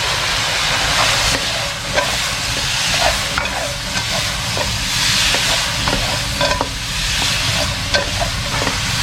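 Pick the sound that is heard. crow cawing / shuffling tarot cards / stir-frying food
stir-frying food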